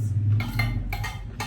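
Utensils clink and scrape against a dish while cucumber, onion and coriander are mixed for a homemade Nepali achar, a few short close bursts over a low steady hum.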